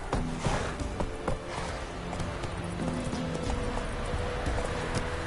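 Roach the horse gallops in The Witcher 3 on PS4, a steady stream of clip-clop hoofbeats close by, running continuously with a brief whinny-like sound near the start and game ambience underneath.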